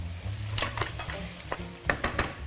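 Already-boiled basmati rice frying and being stirred in a pan, a steady sizzle broken by several scraping stirs and tosses, close and fairly loud with no talking.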